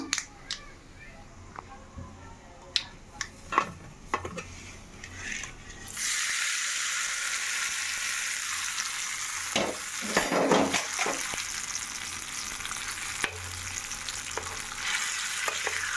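Garlic sizzling in hot tempering oil for a peanut tomato chutney. A few light clinks and taps come first, then a loud, steady, close frying hiss takes over and lasts to the end.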